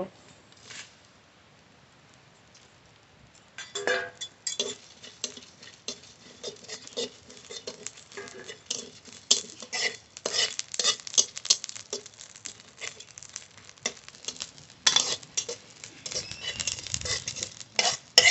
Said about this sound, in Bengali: এখানে নিয়েছি শুকনো লঙ্কা, 3টে এলাচ, ধনে, জিরে একসঙ্গে ভেজে নেব